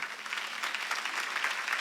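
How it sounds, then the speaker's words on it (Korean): A church congregation at a Sunday worship service claps steadily and continuously, a dense, even patter of many hands with no voices breaking through. "박수 좀 주세요"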